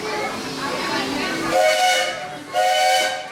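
The steam train on the Disney World Railroad at Magic Kingdom sounds its whistle in two loud, hissing blasts, the second after a short gap, over steady background noise.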